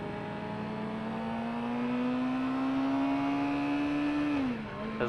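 A 2018 Suzuki GSX-R 600 sport motorcycle being ridden, its engine note rising smoothly in a steady climbing whine before dropping sharply as a gear shift cuts in near the end.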